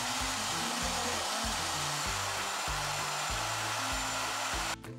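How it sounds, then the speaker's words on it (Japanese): Hair dryer blowing on hair, a steady whooshing airflow with rhythmic low bumps as the dryer moves, close and continuous until a brief change near the end. "前に抜かせるようにドライヤーでやっていきます。"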